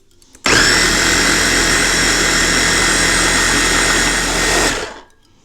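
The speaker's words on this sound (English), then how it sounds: "we're just going to puree the son of a gun out of this" A blender purees mango with the juice of a whole lemon, a loud steady motor whir that starts abruptly, holds for about four seconds and then cuts off, with no talking.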